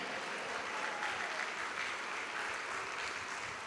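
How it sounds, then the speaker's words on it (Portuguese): Congregation applause at a Baptist communion service in church, a steady dense wash of many hands clapping that holds evenly throughout without pause. "Aplauda o Senhor"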